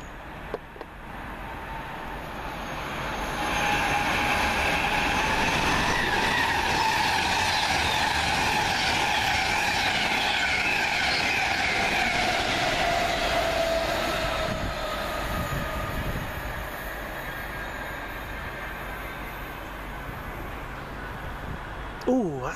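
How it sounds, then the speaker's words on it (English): Passenger train 1A45 from Liverpool Lime Street to London Euston passing at Wolverton, a rising rumble and rolling wheel noise with a whining tone that swells for several seconds and then fades as it goes by. "Next up, 1A45 from Liverpool Lime Street to London Euston."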